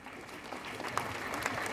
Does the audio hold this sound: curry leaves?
no